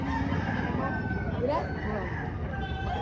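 Rooster crowing at a poultry market in Padre Garcia, a drawn-out call heard over constant crowd noise and chatter of people nearby.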